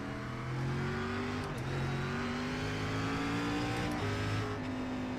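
Race car engines in the iRacing sim game roar steadily for about five seconds, harmonic engine tones rising and shifting through gear changes, loud and continuous with no talking.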